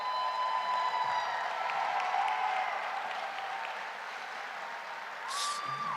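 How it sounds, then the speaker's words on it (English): Applause for youth participants at a game-day competition event, a soft, distant wash of clapping across a large room that stays fairly even and eases off slightly, with faint tonal hums and a brief chirp near the end. "I think they deserve another round of applause"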